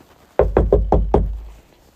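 Five firm knocks land on a door in quick, slightly uneven succession, close and loud, with silence before and after.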